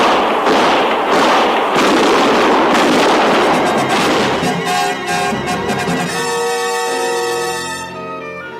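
A rapid burst of loud gunfire crackles and booms in an old-time Western radio drama, dense and continuous at first, then thinning into scattered shots and ringing echoes before fading.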